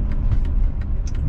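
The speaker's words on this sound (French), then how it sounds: "on entend très légèrement le feulement du moteur" Mercedes W124 230E from 1991 with manual gearbox rolling at 20–30 km/h, a steady low engine and road rumble filling the cabin, soft and even.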